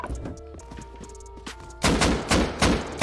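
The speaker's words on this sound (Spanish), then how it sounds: "Están disparando." Gunfire rings out in the survival game Rust: rapid muffled shots at first, then three loud, close bursts of gunfire in quick succession.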